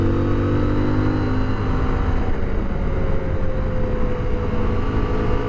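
A 2023 CFMOTO Ibex 800 T motorcycle engine revs hard toward redline, a steady loud drone with rising harmonic tones running unbroken throughout, no voices.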